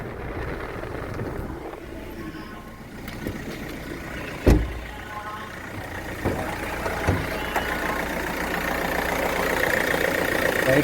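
A 2015 Hyundai Creta SX CRDi diesel with 60k km on it idles steadily, a low engine hum with one sharp knock and a couple of small clunks midway, growing slightly louder toward the end.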